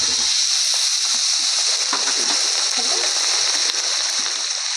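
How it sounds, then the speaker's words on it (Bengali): Water splashed into a pan of well-fried spice masala for a home-cooked meat curry sets off a loud, continuous sizzling hiss and spatter that runs steadily through the whole stretch. "মশলাটা কি সুন্দর কষিয়ে নিয়েছি হালকা করে একটু জল দিয়ে দিলাম"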